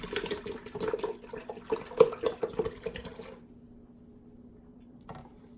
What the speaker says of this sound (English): we are just going to pour 1 fat-free Fairlife into the Instant Pot.